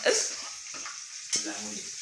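Garlic, onion and green chillies fry in a pan, soft sizzling broken by two sharp stirring scrapes, close by with no talk.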